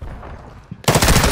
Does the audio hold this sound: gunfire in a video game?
yes